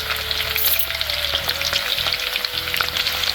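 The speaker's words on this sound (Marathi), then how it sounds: "तेल बघा किती तापलंय, तडक वाजते." Dense, crackling sizzle of banana slices frying in hot oil, continuous and close, with a faint steady hum underneath.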